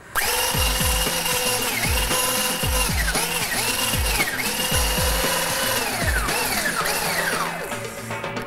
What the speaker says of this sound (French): Je reprends mon batteur et je remélange bien tout.